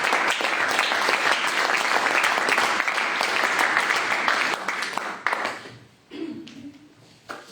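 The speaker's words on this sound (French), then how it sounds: "Applaudisseer voor dit." A church congregation applauds during a Sunday service, a dense, sustained clapping that thins out and breaks into scattered claps and fading noise toward the end.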